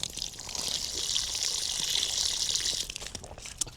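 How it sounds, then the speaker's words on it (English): Water runs steadily from a homemade drinking fountain at a garden drip irrigation setup, a close bright splashing stream that stops abruptly near the end, with no talking. "I got a homemade drinking fountain right here."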